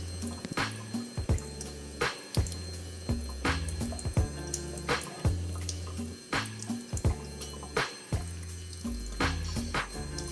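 Shower water sprays onto a RunCam Helmet Camera 2, heard close up as irregular bursts of splashing and drumming on the housing, with brief gaps between the louder gushes.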